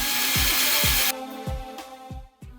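A power drill whirs steadily for about a second, then drops away to leave a series of four or five sharp, ratcheting clicks spaced evenly, close and moderately loud.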